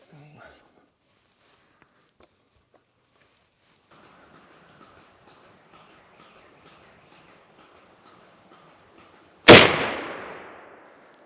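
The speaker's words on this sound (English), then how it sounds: "Oh, I love shooting a muzzleloader." A single loud, sharp gunshot from a .32 caliber black powder muzzleloader cracks out near the end and decays with a long echo, after a quiet stretch of faint outdoor ambience and soft distant sounds.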